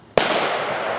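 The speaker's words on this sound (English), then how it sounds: "I'll take my shot, and if I miss, Joe will shoot" A single loud rifle gunshot fires close by at a target 50 yards away, a sharp crack followed by a long, fading echoing tail.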